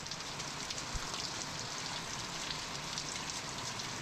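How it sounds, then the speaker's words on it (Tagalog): Rain falling on outdoor surfaces: a dense, even patter of drops with a hissing texture, steady and moderately faint, continuing without break and with no voices. "Umuulan naman."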